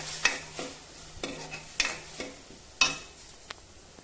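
A paste of tomato, garlic, chilli and ginger cooks down into momo chutney, with spaced spatula scrapes and taps against the pan over a faint, low sizzle.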